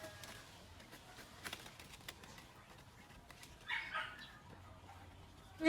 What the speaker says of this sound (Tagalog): Nga ni Dugi, hindi kasi yung aso namin, kapitbahay lang kami dyan.